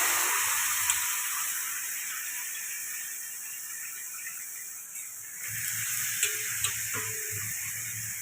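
Steady sizzling of chicken frying in a pan with onions, curry leaves and turmeric, a constant close hiss lasting throughout, with faint stirring clinks and low noise in the second half.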